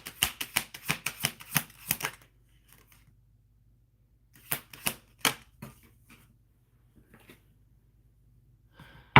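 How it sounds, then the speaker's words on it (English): Affirmation cards being shuffled by hand: a quick run of crisp riffling clicks for about two seconds, a pause, then a second shorter burst of snappy card flicks close to the listener. "let's get an affirmation card."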